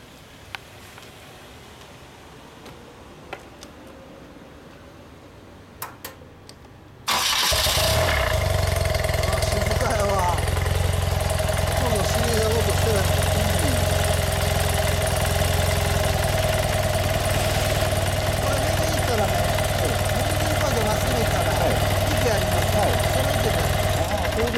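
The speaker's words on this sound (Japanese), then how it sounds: "ほなエンジン音聞かせてもらえますか" A BMW R100CS motorcycle engine starts about seven seconds in after a quiet stretch with a few clicks, then settles into a steady, close, low idle rumble while people talk over it.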